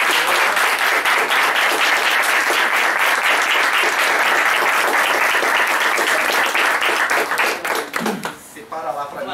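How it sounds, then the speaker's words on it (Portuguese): Dense applause from an audience thanking a guest luthier at a flute-making event in Santa Teresa, loud and continuous for most of the stretch before tapering off near the end as a voice begins. "queria aí uma salva de palmas pro"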